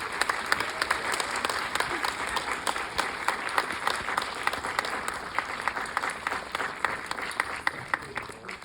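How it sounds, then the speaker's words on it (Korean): A cinema audience at Lotte Cinema World Tower gives a guest-visit welcome to actor Son Suk-ku with dense, sustained applause that stays loud and even from start to finish. "큰 박수 부탁드립니다."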